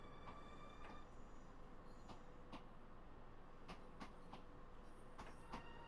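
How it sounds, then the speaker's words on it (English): A Long Island Rail Road train rolls into a station in a train simulator game, a faint steady rumble broken by several sharp clanks and rail clicks at irregular intervals. "Oh, that is a train coming in, by the way,"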